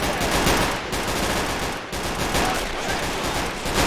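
Sustained machine gun fire in a World War II battle game set in the 1945 German defense of Foy during the Battle of the Bulge, loud, dense and continuous rapid bursts with brief dips between strings of shots.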